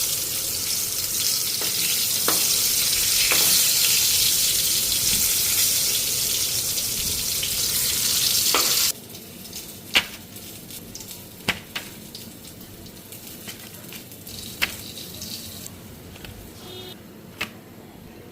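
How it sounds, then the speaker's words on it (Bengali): Brinjal slices fry in hot oil with a loud, continuous sizzle for about half the time, then the hiss drops away, leaving quieter kitchen sounds with occasional sharp clicks and clatters. "তো এদিকে বেগুন ভাজা হয়ে গেল"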